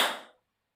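One sharp hand clap, close and crisp, rings briefly and decays into silence.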